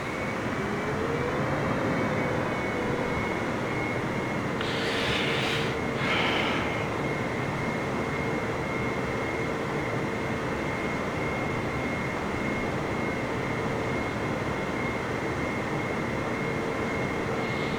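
An airplane taxis in Microsoft Flight Simulator, a steady droning engine hum with a sustained tonal whine held throughout, plus a couple of brief brighter bursts near the start.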